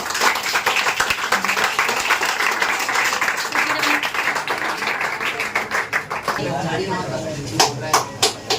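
A classroom of students applauds and claps for several seconds, a dense patter of hands that thins into a few scattered claps near the end.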